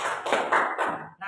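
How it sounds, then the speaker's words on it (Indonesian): Short burst of applause from students in a classroom during a microteaching lesson, a few seconds of uneven clapping at moderate volume that fades out near the end. "berikan tepuk tangan"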